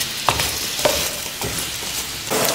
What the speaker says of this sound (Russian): пусть это минут 20 жарится на сковородке красный бурак